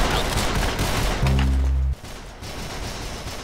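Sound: gunfire in Roblox Arsenal video game

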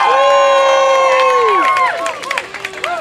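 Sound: protest crowd cheering and applauding

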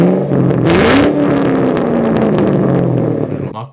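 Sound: Mach 1 stock exhaust revving

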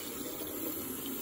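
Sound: filling water pen with water

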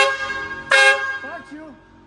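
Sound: car horn honking

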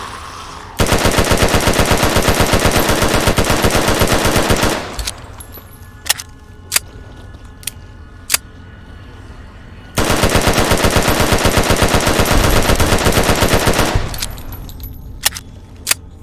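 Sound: machine gun fire in Fallout New Vegas video game

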